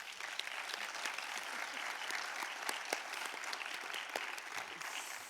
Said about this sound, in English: perhaps with a round of applause